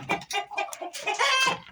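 Guineafowl on a Kenyan poultry farm give loud, close, rapid harsh cackling calls in quick bursts, several birds overlapping with no talk.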